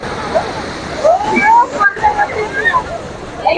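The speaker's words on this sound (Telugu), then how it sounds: "చూడండి సముద్ర కెరటాలు ఎంత గొప్పగా వచ్చేస్తున్నాయో" Sea waves break and wash onto R.K. Beach in Visakhapatnam, a rushing, broadband surf under a crowd, with nearby voices talking loudly over the water throughout.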